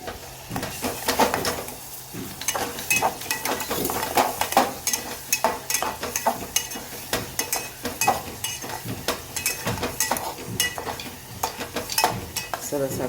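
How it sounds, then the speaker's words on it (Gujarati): A spiced gravy bubbles gently in oil in a pan, with quiet sizzling beneath frequent clinks and scrapes of a spoon stirring against the metal. "સેજ ઉકળવા દઈએ, તેલ છૂટું પડે ત્યાં સુધી એને થવા દઈએ."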